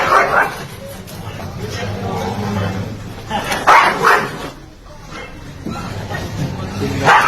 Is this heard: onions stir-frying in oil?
no